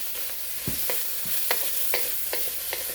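Chicken with mango and lemongrass sautéing in a pan gives a steady, close sizzle, broken by a regular series of short stirring scrapes and taps, with no voices.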